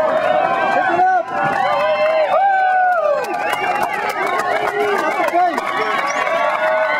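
Spectators at a women's mile race cheer and shout encouragement as runners pass, a lively crowd roar with overlapping yells and whoops, loud and close throughout.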